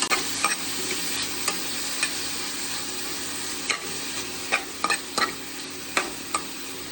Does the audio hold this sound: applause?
no